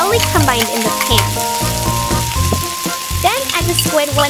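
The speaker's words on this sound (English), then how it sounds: "Cook and stir the spices until they are thoroughly combined in the pan." Minced onion, garlic and spices fry and sizzle in a pan while being stirred, with steady crackling and scraping strokes of the utensil, close and fairly loud, no talk.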